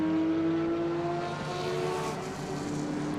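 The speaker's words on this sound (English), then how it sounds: "The Mercedes turns its way through, climbs the hill now." A Mercedes GT race car at Suzuka during qualifying climbs the hill, its engine a steady, loud tonal drone with a slight pitch shift, heard continuously with no talk.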